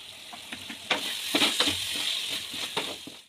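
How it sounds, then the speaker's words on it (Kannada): Mutton boti frying in a pan, a continuous close sizzle with scattered scraping stir strokes and small crackling pops, no talking. "ಬೋಟಿ ಫ್ರೈ ಬೇಯಲಿ."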